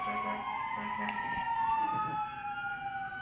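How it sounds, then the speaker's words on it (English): Wailing emergency sirens from a passing parade outside a house, with several sustained rising and falling tones heard from some distance and people talking over them. "There's a big parade actually going on outside my house."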